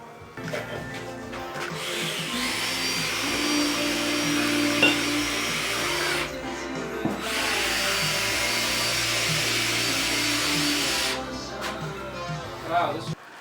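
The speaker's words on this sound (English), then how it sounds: "Now it's time to drill our holes." A power drill whines at high speed drilling holes in a DIY car rotisserie for a 1967 Volvo Amazon 122S wagon, two long runs pausing briefly between them, loud and close with faint clatter underneath.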